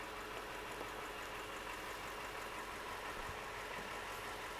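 A Toyota Land Cruiser 200 Series / Lexus LX570 engine idles during a transmission fluid change, a faint, steady low hum heard from beneath the vehicle, even and unbroken throughout.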